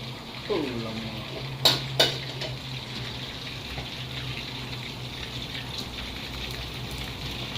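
Mouse-deer meat being added and stirred in a frying pan with cinnamon, giving steady sizzling beneath a few sharp metallic clinks of the utensil against the pan.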